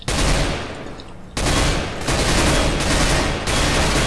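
Rapid automatic gunfire from the video game CS:GO, loud and dense, in sustained bursts with a short drop around the first second and brief breaks between volleys.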